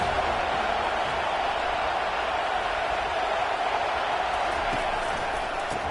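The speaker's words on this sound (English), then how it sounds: "This crowd bringing an ear-splitting welcome to their visitors" A stadium crowd at a football game roars loudly in a welcome for the visiting team, a dense, steady wall of noise lasting throughout with no pauses.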